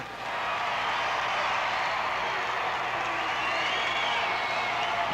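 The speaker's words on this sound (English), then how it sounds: "the roar of the crowd for Muhammad Ali" Crowd roaring at ringside for boxing champion Muhammad Ali at a professional wrestling event, a steady dense wall of cheering and applause that swells quickly and holds loud throughout.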